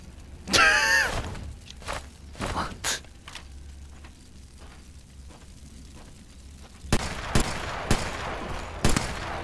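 Uzi submachine gun fire in the Sniper Elite VR game, a sharp burst up close followed by scattered single shots and a late flurry of rapid cracks over low background noise.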